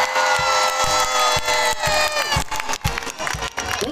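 A crowd at a night carnival parade in Denain, 2022, cheers and claps loudly over pulsing music with heavy beats, shouts and children's voices rising through the dense, lively noise.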